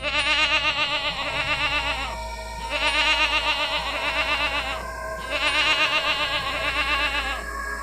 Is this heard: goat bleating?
yes